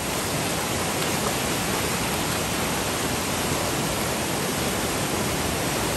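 Strong floodwater rushes through Hinaguan during Typhoon Tino, a loud, dense and unbroken roar of churning current that fills the whole scene without pause.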